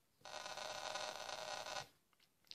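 Noise waveform from the second oscillator of a Korg DSN-12 synthesizer: a steady, loud hiss held for about a second and a half, then cut off abruptly, with no talking.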